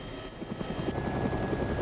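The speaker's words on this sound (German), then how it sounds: "Da fliegt ein anderer Heli noch." In the video game DayZ, a helicopter flies by with a steady, rapid chopping of rotor blades over an engine hum, moderately loud and continuous, with no one talking.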